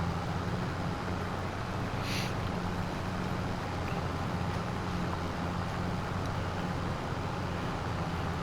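New Holland tractor engine in Farming Simulator 25, a steady low droning rumble holding evenly throughout with a brief faint hiss partway through, no voices.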